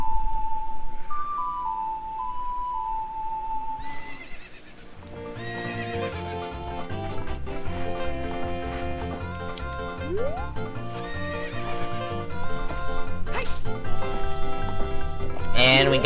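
Game audio from The Legend of Zelda: Ocarina of Time, a horse whinnying and clip-clopping hooves set against melodic in-game music, with tones and chimes layered over the top.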